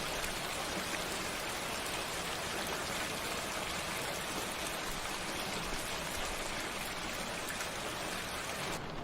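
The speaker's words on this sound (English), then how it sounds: "It's raining outside." Steady rain falls outside, a dense even hiss of drops holding at constant loudness throughout with no voices.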